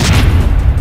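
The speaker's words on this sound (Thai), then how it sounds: "นั่นไงหุ่นยนต์โกโกวาระเบิดไปแล้ว" A loud, dense boom from a Gogowa robot exploding in a Skibidi Toilet animation, a short, full-blast burst of explosive rumble that fills the whole moment.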